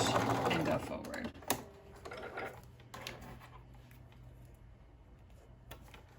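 A Bernina Activa sewing machine running a short seam forward and back, a fast close mechanical whir starting loud then settling into quieter stitching bursts, with soft handling clicks.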